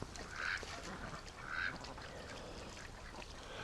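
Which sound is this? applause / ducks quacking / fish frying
ducks quacking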